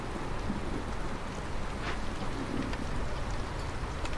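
Rain from rain engines in the video game Against the Storm pours as a steady, dense hiss of falling rain with faint drop patter, constant and moderately quiet, with no talk.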